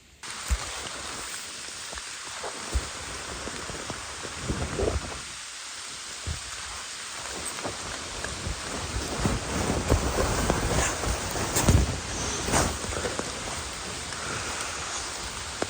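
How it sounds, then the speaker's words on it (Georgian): Steady rain falls through the night around a shelter in the wild, a continuous dense hiss with scattered louder drops and splashes close by. "გათენა კიდეც და კიდე წვიმს"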